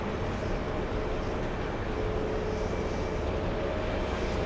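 Airbus A321neo airliner engines heard as a steady, broad roar that stays even and unbroken throughout, with no voices.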